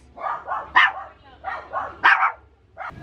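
Dogs bark close by in a quick, uneven run of about six sharp barks with short gaps between them.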